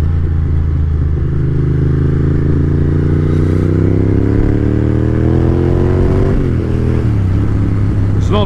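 Ducati M900 motorcycle ridden with a freshly repaired clutch, its engine droning loud and close as revs climb steadily, then a gear change drops the pitch before it pulls again, with no talk.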